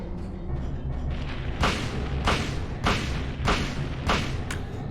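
Gunshots fired at a boss in Silent Hill, five sharp loud reports spaced roughly evenly over a low rumbling game backdrop, with no talking.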